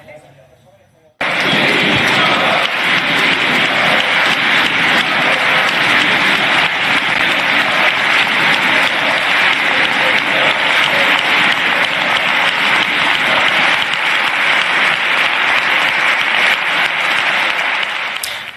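Parliament deputies of the PSOE and Podemos rise in a standing ovation, loud sustained applause filling the chamber, steady and dense from start to finish after a brief quiet opening.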